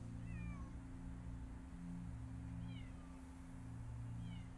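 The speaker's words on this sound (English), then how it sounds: "this one will meow at absolutely anything that moves" Repeated short cat meows from the video game Copycat rise over a steady low background hum. The meows come in a few brief, fairly faint bursts.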